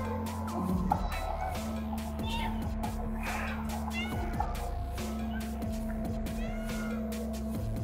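A cat meows in the video game Stray, several short calls over a steady bed of in-game ambience with rumbling low hum and intermittent clicks, mid-distance and moderately loud.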